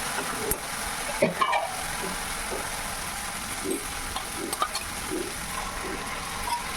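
Sour yogurt goes into a pan of sizzling spice masala for a paneer kalia and gets stirred, a steady frying hiss with soft scraping spoon strokes and a few light clinks, while someone talks over it.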